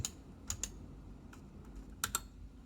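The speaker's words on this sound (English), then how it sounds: "you can create one by typing a name" A few scattered keystrokes tap on a computer keyboard, quiet and close, in short clusters separated by pauses.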